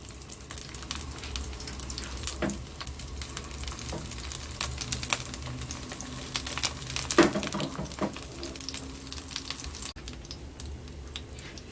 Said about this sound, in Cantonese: 唔好太猛火煎佢，因為太猛火煎呢，你啲辣椒燶咗都未熟啊